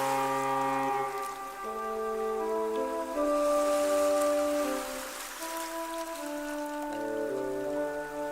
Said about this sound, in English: I stare at the ship chugging slowly across the horizon